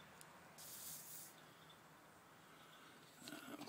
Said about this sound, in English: So let's open the Jones soda bottle.